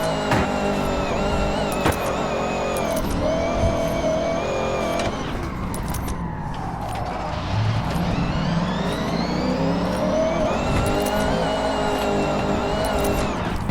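Car engine in the video game Forza Horizon 6 revving up and down while sim drifting around Japan, loud and continuous with repeated rising gear sweeps and a brief rough tire-scrub stretch midway.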